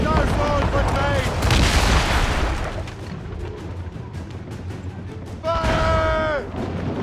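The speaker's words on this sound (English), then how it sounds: "Hit her from a safe range with our mortar! Fire!" Mortar fire from a sailing warship in the naval combat of Assassin's Creed Rogue, with heavy booming blasts and rumbling explosions among battle noise while voices shout orders.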